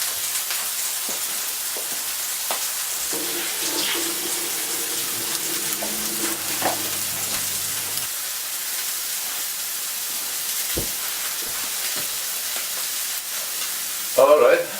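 Burgers fry in a pan with a steady, fairly quiet sizzle throughout, broken by a few soft clinks and a louder clatter near the end.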